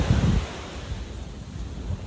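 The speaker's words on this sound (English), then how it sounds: "Guys, I'm by the beach." Ocean waves wash in at a beach with a low, rolling rumble, partly covered by gusty wind buffeting the microphone, and no one speaking.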